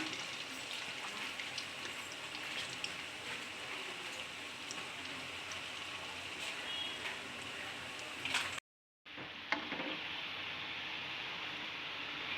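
Cauliflower kola balls deep-frying in oil over a low flame, a continuous dense sizzle and crackle like steady rain, holding at moderate loudness with a brief dropout near the end.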